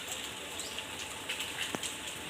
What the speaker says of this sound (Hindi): रुकी भी नहीं है बारिश की, थोड़ी सी हल्की हो रही है।